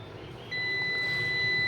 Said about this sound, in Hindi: बीप भी आ रहा है